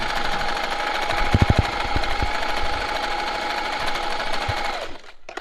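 Usha Janome Marvela sewing machine stitching a selected pattern, a loud, close, continuous mechanical whir with a few knocks, stopping near the end.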